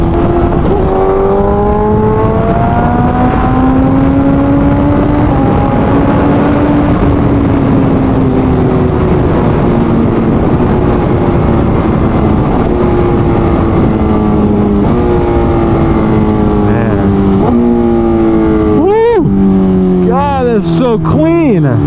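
A BMW S1000RR motorcycle with a Stage 2 flash accelerating hard, the loud engine note climbing in pitch and dropping at each gear shift, with steady wind rush throughout.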